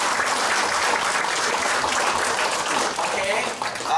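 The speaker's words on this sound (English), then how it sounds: "So maybe we can give a round of applause to all these people." An audience at a press conference about a Nobel nomination for Singapore's Dr. Chia Thye Poh breaks into applause, a loud, continuous round of clapping with voices mixed in, staying strong throughout before dipping briefly near the end.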